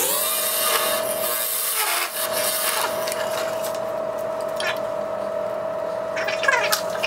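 A wood lathe spins a turned bowl while a gouge cuts its feet, giving a steady whirring hum with scraping, rubbing cuts that come and go in a quiet workshop.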